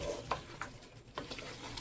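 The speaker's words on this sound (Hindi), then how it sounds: "तो इसको हम अच्छी तरह से मिक्स करते हैं।" Spices and meat for palak gosht get stirred in a pan, with a few scraping strokes and light clinks of the spoon against the metal over a faint sizzle, quiet and close.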